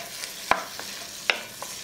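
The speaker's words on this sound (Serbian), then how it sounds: "I sve ćemo to promešati i propržiti dok ne omekša." Chopped onion and four garlic cloves sizzle softly in a pan, with two sharp utensil scrapes as they are stirred over a faint, steady frying hiss.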